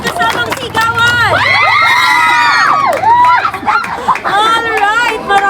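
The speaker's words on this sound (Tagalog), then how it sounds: "And palakpakan! Sabay kasamang sigawan!" A group at an outdoor car-trunk birthday surprise claps and shouts loudly, with cheering, whoops and children's yells close by, continuous and energetic.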